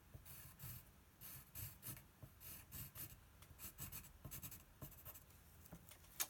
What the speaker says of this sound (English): I will just use the tip of my pencil and go back over all of those